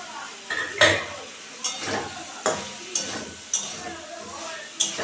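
Fried drumsticks and potatoes stirred into sizzling spice paste in a pan, with repeated spoon scrapes and clanks at a steady rhythm over continuous frying hiss.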